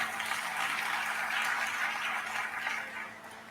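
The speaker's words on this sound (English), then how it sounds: "Let's give them a round of applause." Audience at a civic gathering with a city mayor applauding steadily for several seconds, a dense even patter of clapping at moderate distance that fades toward the end.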